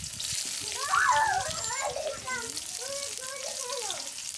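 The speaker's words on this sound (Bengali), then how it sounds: "পেঁয়াজ দিয়েছি, এবার পেঁয়াজটা লাল হলে শাকগুলো দেবো।" Onions sizzling in hot oil in a pan for a lauki saag recipe, a steady frying hiss under a voice talking throughout.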